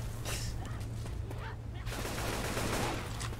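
Rapid gunfire from Left 4 Dead 2 shooter gameplay, dense repeated shots and bursts running throughout at high level, with voices talking over the action.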